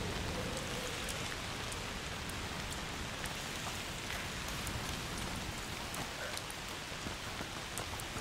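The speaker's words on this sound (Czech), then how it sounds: "Tady, jak tady padají ty kapky deště." Steady rain from the game A Plague Tale: Requiem, with dense raindrops pattering on surfaces in a continuous wash and occasional sharper drips standing out, no voices.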